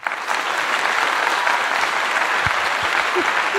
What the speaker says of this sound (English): Let me bring her on in with a nice clap here.